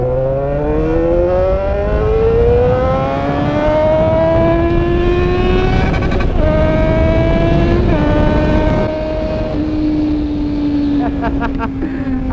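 A Yamaha XJ6 motorcycle carrying a passenger accelerates hard, its engine note climbing steadily through the gears with brief dips at each shift, loud and close with wind noise throughout.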